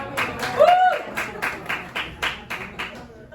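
Sparse clapping from a stand-up comedy audience sounds in a handful of separate claps, light and fairly close, alongside a brief voice.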